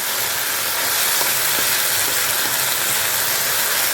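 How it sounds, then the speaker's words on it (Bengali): Potatoes and green chillies fry in a pan with a steady, close sizzle and crackle that runs unbroken throughout, with no voices. "আলু, কাঁচা লঙ্কা, বাস। শুধু ভাজা, আর কিচ্ছু না।"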